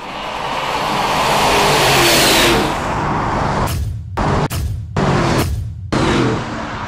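A Rivian R1S electric SUV, a Lamborghini Urus and a Shelby F-150 Super Snake pickup accelerate hard in a drag race, a loud roaring rush that swells and then cuts out in several abrupt gaps.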